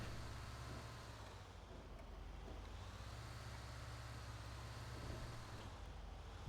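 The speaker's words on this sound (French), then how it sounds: "Le bus fait le 0 à 100 en 1h30." A bus rolls slowly along the road, its low engine drone steady and continuous, with a soft rumble of traffic in the background.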